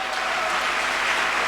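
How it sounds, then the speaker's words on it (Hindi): A seated crowd at a business success talk breaks into hearty applause for a guest speaker, a thick, continuous wash of clapping hands held at an even level from start to finish. "मैं चाहूंगा सर के लिए जोरदार तालियां हो जाएं"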